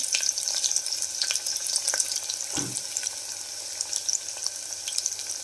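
Ginger and onion frying in a pan of oil for pancharatna dal khichdi, a steady close sizzle with small crackles and one soft low knock partway through, no voices.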